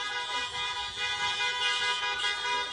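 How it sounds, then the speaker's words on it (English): Car horns honk in a dense, sustained din at an outdoor drive-thru India Day 2021 celebration, several vehicles sounding together at steady loudness without pause. "Keep honking!"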